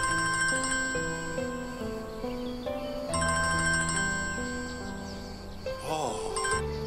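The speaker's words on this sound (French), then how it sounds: "Denise, votre téléphone sonne" A mobile phone ringtone plays loudly and up close, a bright melodic tune of repeating electronic tones that cycles through its phrase twice with no pause.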